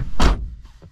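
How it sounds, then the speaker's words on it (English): A VW Caddy van door swings shut with a single close, solid thunk, followed by a faint rattle. "Just close the door."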